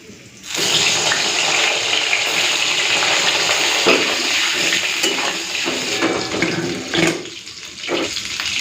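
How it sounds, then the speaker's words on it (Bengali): Brinjal (eggplant) slices frying in the oil left over from frying parshe fish, giving a loud, steady, close sizzle that runs almost unbroken, with no talking. "এখন এই তেলেই আমি এই বেগুনগুলোকেও ভেজে নেব"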